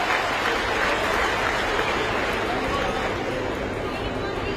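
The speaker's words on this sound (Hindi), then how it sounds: "बच्चों एक ताली आप अपने लिए बजाइए" Students at a laptop distribution ceremony for meritorious pupils applaud themselves with steady, dense clapping that fills the hall evenly for several seconds, with faint crowd murmur beneath.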